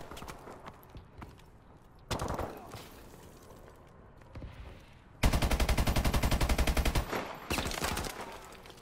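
Light machine gun fire in a gun game shooter match, with bursts of loud rapid rhythmic shots, including a long steady stream of evenly spaced rounds, separated by quieter stretches of game sounds.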